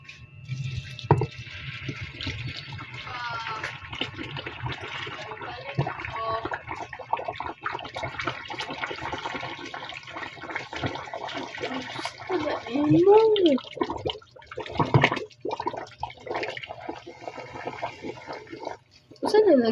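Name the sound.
water poured into a clogged sink drain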